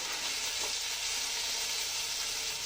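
Onions fry in a pan for a dried-fish curry, a loud, even sizzle hissing steadily throughout as a little water goes in, with no voices.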